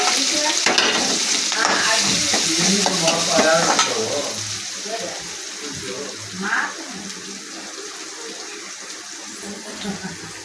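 Onions and green chillies fry in a pan with mustard seeds for a tiger prawn fry, sizzling steadily while a spoon scrapes and stirs in bursts early on, the sizzle easing to a softer crackle later.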